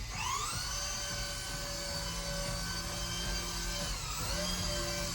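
A toy Krypto drone flies nearby with a steady high-pitched electric whine and buzzing rotors, shifting pitch as it climbs and hovers, with no talking.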